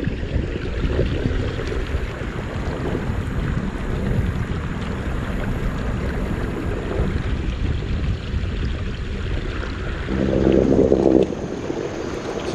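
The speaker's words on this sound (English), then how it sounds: "I can adjust the height of my motor up and down, even with it running like it is now" Small motor on a side transom mount bracket pushes a Feelfree Lure 11.5 kayak along a river, a steady droning hum mixed with wind buffeting the microphone and water rushing past, swelling louder briefly near the end.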